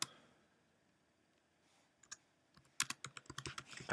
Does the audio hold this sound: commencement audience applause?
no